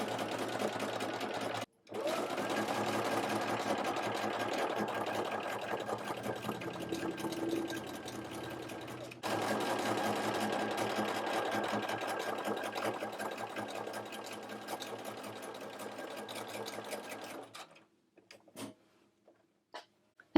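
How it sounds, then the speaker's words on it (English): A sewing machine runs steadily with a narrow hem foot, folding a raw fabric edge under through a metal coil as it stitches; the hum continues with two brief pauses before stopping near the end, with no talking. "So you can see as that's stitching, it's creating a very nice narrow hem."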